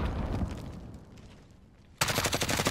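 Rapid automatic gunfire in a multiplayer shooter game, a dense burst that tapers off, then erupts again loud and close in steady fast bursts.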